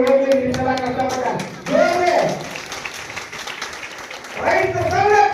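A crowd claps at a farmers' association installation ceremony, a burst of scattered hand clapping in the middle set between loud shouted and chanted voices at either end.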